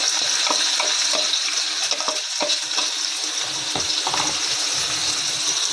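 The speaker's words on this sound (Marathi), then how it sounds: "त्याच्यामध्ये कांदा टमॅटो टाकून, टमाटर आणि भाजीला फोडणी देते" Onion and tomato sizzle in hot oil for an Indian tempering, a bright steady frying hiss with occasional clinks and stirring scrapes from a spoon in the pan.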